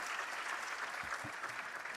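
A forum audience at a climate-focused conference applauds to thank the presidents, a steady wash of many hands clapping, fairly faint and continuous, with a low thump or two underneath.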